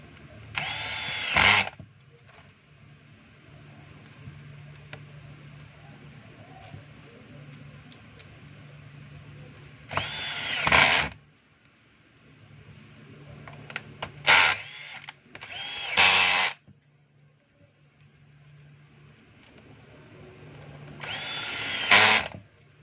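A cordless power driver runs a screw back into a DeWalt DWP849X car polisher in five short whirring bursts, each a second or so, separated by long quiet gaps, close and fairly loud.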